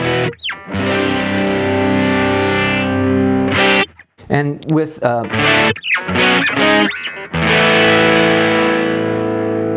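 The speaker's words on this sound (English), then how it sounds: "we can definitely hear that the higher strings have more distortion on them" Hex fuzz distortion on a guitar synth, the higher strings noticeably more distorted, rings out in loud sustained chords that break off midway while someone speaks briefly before the fuzzed tone returns.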